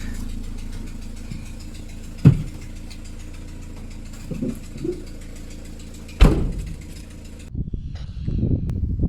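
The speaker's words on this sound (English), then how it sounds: "Kept the engine going because the battery was flat." A car engine, kept running after a jump start because of a flat battery, idles with a steady low rumble throughout, broken by a couple of sharp knocks and thumps before it cuts out near the end.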